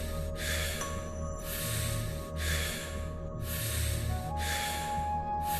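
Rhythmic, forceful breathwork breathing in a guided meditation session, with four or five close, loud whooshing breaths evenly spaced over a soft continuous hum.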